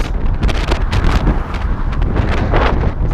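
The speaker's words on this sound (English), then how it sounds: "It's windy as." Strong wind buffets the microphone beside a highway outside Melbourne, a loud continuous roar with repeated gusty bursts and no talk.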